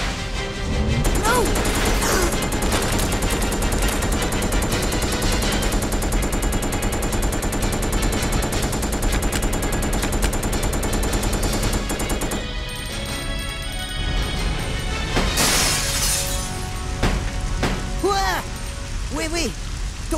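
Rapid gunfire in Resident Evil Code: Veronica X inside a prison area, a loud, continuous burst of shots and crashing impacts that cuts off partway through, followed by sharper scattered effects and a voice.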